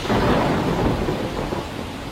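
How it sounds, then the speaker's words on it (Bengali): A loud, rolling rumble of thunder fills the air over heavy, steady rain, continuous and close throughout. "বাইরে ঝড়, আর তার সঙ্গে বৃষ্টি।"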